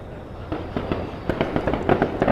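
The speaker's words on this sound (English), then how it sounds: "there's the fireworks right over there." Distant fireworks pop and crackle in a quick, irregular string of bursts over a steady low rumble.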